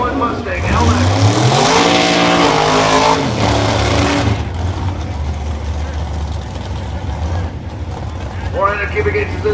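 Loud roar of drag racing cars, a 1968 Chevelle with a 506 engine and a 1991 Mustang LX with 400 cubic inches, revving hard then easing off, with an announcer talking over the engines.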